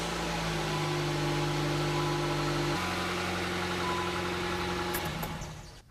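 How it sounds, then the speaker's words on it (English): A car engine idles steadily right after an oil change, a constant low hum with a slight shift in pitch midway, running alone for several seconds before fading. "Now we'll start the car and let it run for a few minutes"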